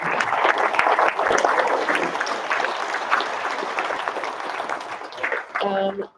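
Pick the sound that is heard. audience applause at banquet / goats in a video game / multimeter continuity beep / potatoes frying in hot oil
audience applause at banquet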